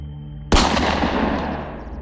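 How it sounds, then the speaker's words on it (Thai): One loud, sharp gunshot cracks suddenly and echoes away over a low, steady hum that plays before and under it. "หลันก็อุบัติเสียงปืนขึ้น"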